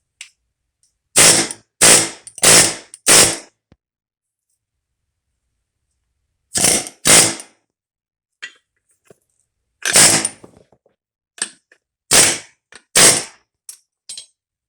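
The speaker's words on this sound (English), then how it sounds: "so basically now you just pound it back the other way and then pound it out" Hard metallic hammer blows drive a U-joint out of its yoke, loud and close in separate groups of two to four strikes with quiet gaps between them.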